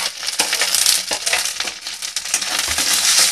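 Garlic, onion and chili fry in a pan, a busy crackling sizzle with scattered sharp pops and stirring scrapes, close and continuous with no talk.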